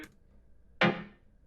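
An incidental synth sound from the background of a deep house style remix, a single short, bright swept hit that fades quickly, faint and alone.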